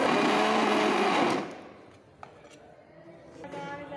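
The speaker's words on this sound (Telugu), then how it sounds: "పచ్చిమిర్చిని మిక్సీ అయితే పట్టుకొని" A mixer grinder grinds green chillies into a paste, running loud and steady for about a second and a half before cutting off, leaving a faint room hum with a small knock.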